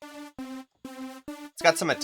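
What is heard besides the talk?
No everyday noise stands out behind the speech.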